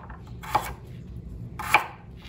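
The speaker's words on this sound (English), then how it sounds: "but you're gonna be lifting your knife. So this is called a high cut." Kitchen knife chops a carrot with a lifted high cut, two separate crisp knocks of the blade on the board about a second apart, close and clear over quiet room hum.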